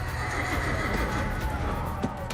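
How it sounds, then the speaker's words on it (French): A Spanish conquistador's horse gives a loud, close whinny over a busy clatter of hooves and movement. "Les conquistadors utilisaient même leurs chevaux pour blesser les Incas."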